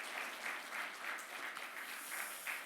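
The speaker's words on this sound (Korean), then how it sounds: "격려의 박수" A church congregation at a Sunday afternoon worship service applauds in encouragement, a faint, steady wash of many hands clapping together from a distance with no voices over it.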